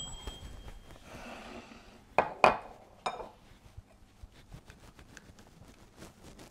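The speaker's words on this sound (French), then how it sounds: "Et maintenant, je vais mélanger mon chocolat." Utensil scraping and tapping against a bowl while melted chocolate is mixed for Easter chocolate bells, with a couple of sharper knocks midway and softer clinks after, close and fairly quiet.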